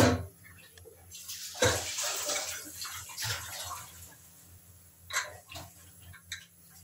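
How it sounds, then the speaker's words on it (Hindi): Water splashes and pours into a pressure cooker holding mutton keema for shami kabab, bursts of rushing, gurgling water close by, fading between pours, with a faint ticking in the background. "अब हमने इसमें पानी डाल के"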